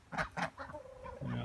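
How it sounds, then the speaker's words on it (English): Chickens and ducks in a wooded backyard pen give a few short honking, clucking calls close by, followed by a steadier low call at the end. "And our chicken and duck pen."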